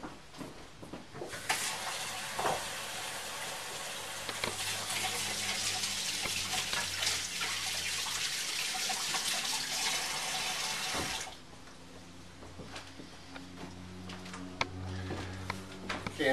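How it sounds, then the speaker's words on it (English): Tap water runs steadily into a kitchen sink for about ten seconds during hand washing while cooking, then cuts off, leaving faint kitchen clatter behind. "I'm going to wash my hands."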